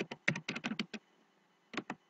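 Quick bursts of close computer-keyboard typing as a chart axis title is entered, a short pause, then two more keystrokes.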